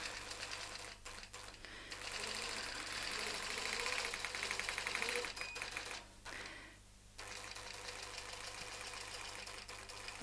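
A longarm quilting sewing machine stitches steadily across a tray assembly, a fast continuous mechanical rattle under a low motor hum that briefly dips and pauses before resuming, with no talking.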